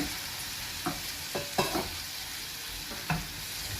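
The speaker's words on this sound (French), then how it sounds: "on va mettre les fruits de mer. Pareil, dans un petit peu d'huile et du beurre. On va faire rissoler aussi." Seafood fries in a little oil and butter with a soft, steady sizzle, broken by a few sharp scrapes and taps of stirring in the pan, all quiet and close with no voices.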